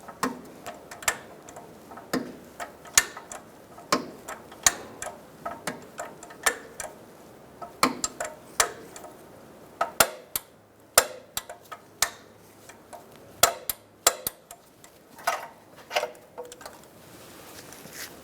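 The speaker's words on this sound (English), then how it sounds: "So I'm going to stop there and get my torque wrench now. So we're going to torque this to 30 foot-pounds." Torque wrench clicking and ratcheting while tightening the upstream O2 sensor on a 2012-2017 Hyundai Accent 1.6L four-cylinder, sharp irregular ticks at close range over a quiet background.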